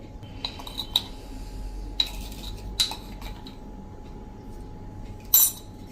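A spoon clinks against a pan while drumstick and besan curry is stirred over the flame, with a few distinct metallic taps and scrapes over a low steady hum.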